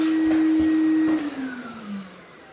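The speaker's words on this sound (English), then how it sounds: "continue to evacuate the rest of the air out of the bag with my vacuum pump" A vacuum pump evacuating air from a wood-bending bag hums loudly with a steady tone, then the pitch drops and the sound winds down and quiets as it fades.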